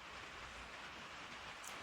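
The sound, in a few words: rain falling on a tin roof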